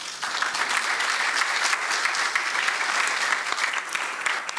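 An audience at a university sustainability forum panel claps steadily and warmly for a few seconds, a dense, even applause with no voices standing out.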